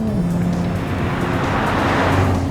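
A Jaguar F-Type Coupe sports car, V6 S or V8 R, gives a steady deep engine growl that holds loud and even throughout the short stretch, with no voices over it.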